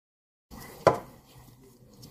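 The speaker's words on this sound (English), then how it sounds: "Take a baguette and cut it in slices." A knife cuts down through a baguette into slices, heard as a single crisp, close chop against a board, followed by a brief quiet.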